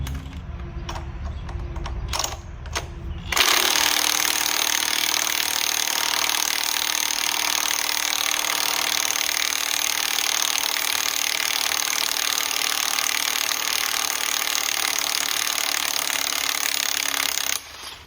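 Impact wrench running continuously on the harmonic balancer bolts of a 1972 Chevy Chevelle engine, a loud steady mechanical whine and rattle lasting about fourteen seconds after a few short bursts.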